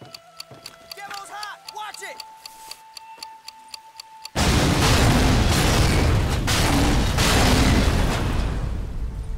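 A satchel charge goes off in Medal of Honor Pacific Assault, a sudden loud blast midway that gives way to a sustained roaring rumble of explosions and debris, after quieter game ticks and effects.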